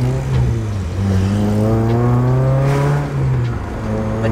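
A race-inspired Honda Accord with a 195 kW engine accelerates, its engine droning loudly and continuously with a rising, wavering tone heard from inside the car.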